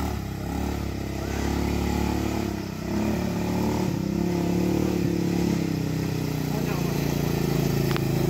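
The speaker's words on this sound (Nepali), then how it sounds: "quad bike ride हान्दैछ" A quad bike rides at Nagarkot, its engine running as a steady, loud drone with rises in revs. Someone talks over the engine throughout.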